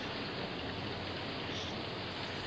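Steady rain hisses as a dense, even wash of noise, with no distinct drops or voices standing out.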